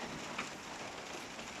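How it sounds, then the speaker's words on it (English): Steady, loud rain drumming on a covering overhead, a dense continuous hiss close by with no voices. "Rain's really loud under here."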